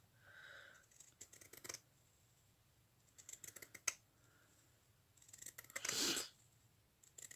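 Pinking scissors snip through scrapbooking paper in short bursts of crisp cutting, close and fairly quiet, with brief pauses between strokes and no talking.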